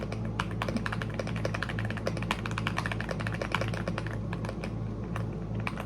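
Quick, steady keystrokes clatter on a new external drafting keyboard, a close, soft stream of clicks and taps with no one speaking.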